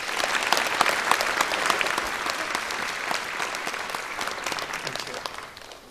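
A concert-hall audience at a gala of German classical music at the German Embassy in Ulaanbaatar breaks into loud, sustained applause that welcomes the ambassador to the stage, then tapers off slightly at the end.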